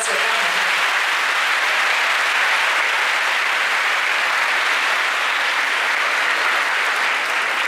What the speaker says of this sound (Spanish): Un aplauso para este espacio tan bonito.